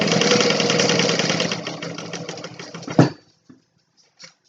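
Sewing machine top stitching through vinyl an eighth of an inch from the edge, a steady rapid mechanical whir for about three seconds that stops abruptly with a thump, followed by a few faint taps.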